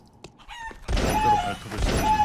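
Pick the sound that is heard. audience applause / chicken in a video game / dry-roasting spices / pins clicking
chicken in a video game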